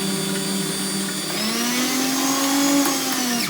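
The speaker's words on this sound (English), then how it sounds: "we're going to turn the blender on." A blender whirs steadily at high speed blending lemon juice for hummus, its motor pitch rising slightly midway, loud and close with no talking.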